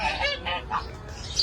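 Ducks in a garden in Medina give a rapid run of loud, nasal honking quacks, several calls in quick succession close by, with no talk over them.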